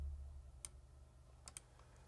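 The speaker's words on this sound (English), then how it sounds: "It's just typing." A few faint, sharp key clicks from someone typing on a computer keyboard during a multiplayer typing race. The clicks are isolated and sparse over a low steady hum.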